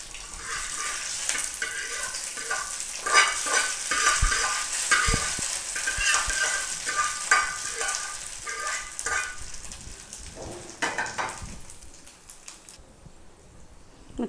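Brinjal masala is stirred together with rice in a pan, a steady scraping and mixing with a light sizzle running throughout, fairly loud and close, easing off near the end.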